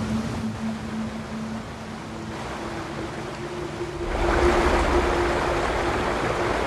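A river in a film scene flows with a steady rushing wash that swells louder toward the end, with no talking.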